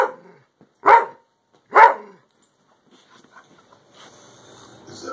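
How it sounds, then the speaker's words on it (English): Two loud, sharp barks from a pit bull about a second apart, followed by quieter rustling and faint background noise. "Why is she barking? What are you barking for?"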